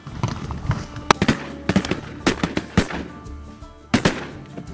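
Shotguns fire during a goose and duck hunt, a string of loud, sharp blasts spaced irregularly, some in quick pairs, over outdoor background noise.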